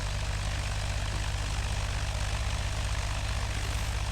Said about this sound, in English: I hear the engine change, corrected altitude.